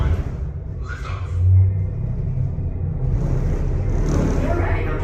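Launch rumble of a Disney space elevator ride, a deep low roar swelling briefly then holding steady as the vehicle lifts off, with faint voices over it.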